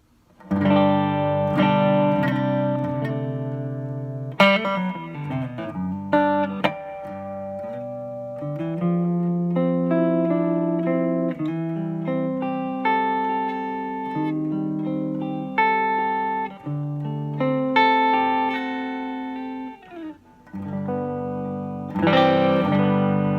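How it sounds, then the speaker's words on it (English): A clean electric guitar, a Hofner HCT CS10 through a Vox AC10 amp, plays chords and melodic lines with a touch of reverb, ringing out steadily with no other sounds. "I'm going into this Vox AC10 with the EQs at noon, a little bit of reverb, and pretty clean sound"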